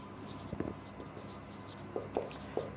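Pen scratching on paper during a geometry lesson on a quadrilateral inscribed in a circle, a few short close strokes in quick clusters over a quiet room hum.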